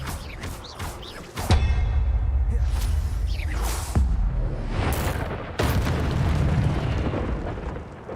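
A spell blast in Hogwarts Legacy on PC: loud, sharp magical bursts and booming impacts, with whooshing releases and a dense rumbling tail between the hits, with no talking.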